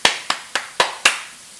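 Five sharp hand claps in an even rhythm, each close and crisp with a short decay, while people are cooking omelette rice.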